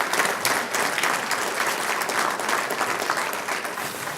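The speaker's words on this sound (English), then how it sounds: "Absolutely, a round of applause." An audience at a school board meeting claps steadily in a sustained round of applause lasting several seconds, close and filling the room with no voices over it.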